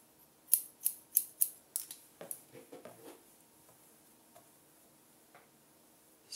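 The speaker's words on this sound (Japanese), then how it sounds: "下から一度指を半本分ずらしてハサミのこの辺りで切ります。" Scissors snipping hair in a semi-long round graduation haircut: a rapid run of about six crisp, close snips, then softer scattered clicks fading to quiet.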